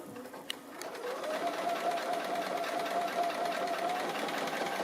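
A sewing machine free-motion stitching appliqué leaves with 50-weight cotton thread and a regular needle, feed teeth dropped, runs in a steady continuous whir after a couple of soft clicks.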